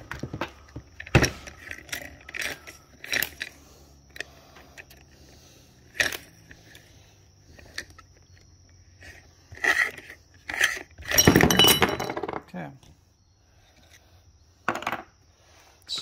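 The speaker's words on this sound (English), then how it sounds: "I'm taking the string trimmer head off" The string trimmer head is being unscrewed from a Stihl trimmer. Close metallic clinks, rattles and plastic clicks come in scattered bursts, with a longer clattering handling stretch near the middle and quiet gaps between.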